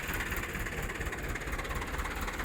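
A 2017-model tractor's original diesel engine runs steadily nearby, a loud, continuous low rumble with a rhythmic chugging pulse and no voices, holding even rather than clearly climbing in revs.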